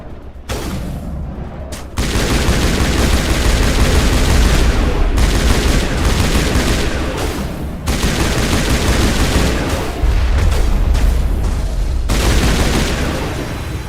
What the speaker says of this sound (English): Is Rex using his shotgun?